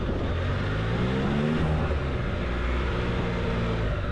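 A 2025 Can-Am Spyder RT engine, 115 hp, runs steadily and loudly with a droning, slightly rising engine tone, close up and uninterrupted.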